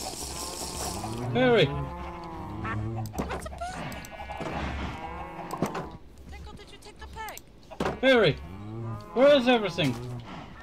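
Cows in a Minecraft modded server moo repeatedly and loudly, several long drawn-out calls in a row, with a few clunks and splashes in between and no one talking.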